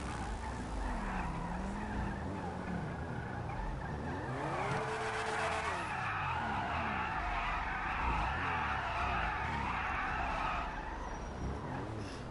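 Steady roar of an electric car burnout in Grand Theft Auto V, with squealing, skidding tires and a rising, sweeping whine, sustained and loud throughout with no talking.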